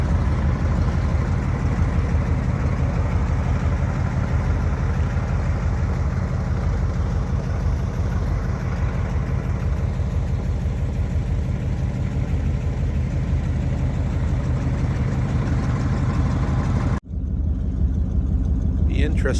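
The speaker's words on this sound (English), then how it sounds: "The old big block warm up. Listen to her rattle." An old big-block engine idles steadily while warming up, a loud, continuous low rumble with a rattling texture that runs almost to the end, then cuts off abruptly and briefly.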